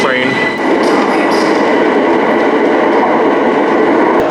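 An Elizabeth Line train pulling in on a London underground platform, a steady loud rumble and hum of wheels and motors filling the whole stretch, with voices talking over it.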